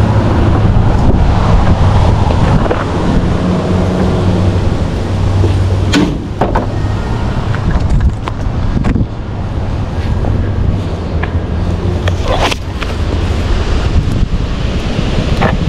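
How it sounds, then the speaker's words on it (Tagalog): Strong wind blowing outdoors on a sunny day in Canada, a loud continuous buffeting roar across the microphone with gusts and a few sharp knocks, with no talk. "medyo mahangin"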